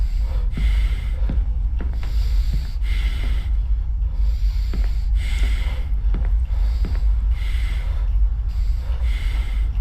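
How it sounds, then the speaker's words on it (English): Heavy, rhythmic breathing in a horror video game, loud and close, with long hissing inhales and exhales repeating roughly every second throughout, over a steady low rumble and no talking. "This breathing is crazy."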